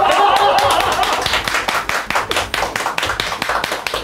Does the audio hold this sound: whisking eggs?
no